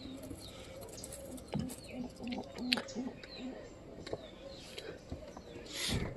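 Domestic pigeons kept at home coo softly in a quiet room, a short series of low, throaty coos near the middle among faint rustles and small clicks.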